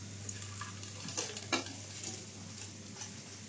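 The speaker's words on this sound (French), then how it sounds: "j'ai ça et je me verse directement dans ma casserole" Chopped onion, garlic, ginger and white of leek tipped into a hot saucepan, giving a soft, steady sizzle with a few brief clatters and stirring scrapes, close and fairly quiet, with no talk.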